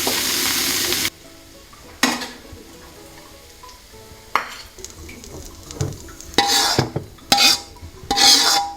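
Green peppers are stir-fried in a wok: a loud sizzle at first that quickly drops away, then scattered scrapes and clatters of the spatula against the pan, some bursts sharp and close, with no talking.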